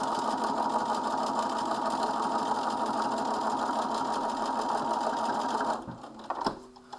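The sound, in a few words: sewing machine edge stitching a coat seam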